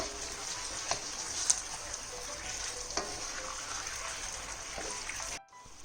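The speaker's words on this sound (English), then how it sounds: "Now fully coat the mushrooms that you've just put in with the sauce." Mushrooms sizzle steadily in a hot pan as they are stirred and coated with sauce for Mushroom 65, a continuous bright frying hiss broken by a few soft spoon scrapes, before the sound cuts out near the end.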